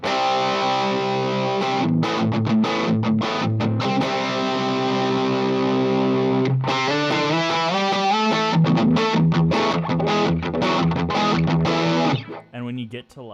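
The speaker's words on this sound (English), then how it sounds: "so that's already like a pretty dang good like voxy sound, but just throwing in like a good drive" Electric guitar played through an overdrive pedal with a Vox-style drive tone, for an ambient pedalboard, strumming sustained chords loud and close, then a busier run of picked notes before cutting off near the end.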